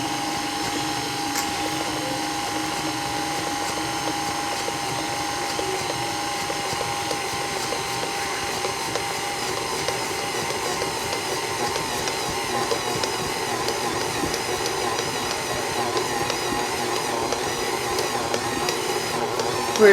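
An electric mixer runs at low speed through cookie dough, a steady mechanical whir with a faint ratcheting, gear-like texture that holds an even, close level throughout.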